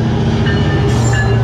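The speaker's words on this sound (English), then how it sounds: "I finally got to see my first freight train" A freight train rolls loudly through a railroad crossing, its heavy steady rumble and wheel noise close by, with no voices.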